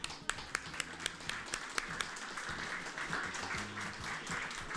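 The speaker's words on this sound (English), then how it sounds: "A round of applause for all of you." At a community dim sum breakfast, a faint round of applause comes from the audience, with a few sharp distinct claps early on over a low murmur of room noise and chatter.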